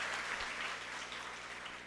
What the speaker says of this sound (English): let's give a round of applause to everyone who has made it from outside as well